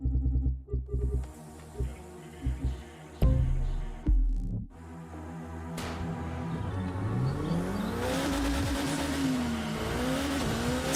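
Alpha Grand Prix race car in The Crew 2, with a few short engine bursts and a sharp hit, then a steady rising, revving engine tone that climbs and holds as the car accelerates.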